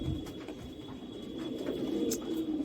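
Tonk breeding pigeons, males and females in a loft, give a continuous low cooing murmur at moderate volume, with a faint steady hum underneath.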